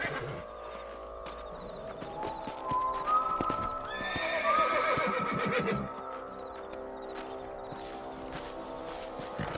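Horses in the Red Dead Redemption video game trotting and galloping with steady clip-clop hoofbeats, a loud neigh rising in the middle, heard at moderate volume with no talk.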